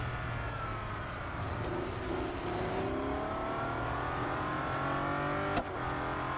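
Race car engines in Real Racing 3 hum and whine steadily, with several overlapping engine tones sweeping up and down through gear changes at moderate, constant loudness, plus a brief sharp click near the end.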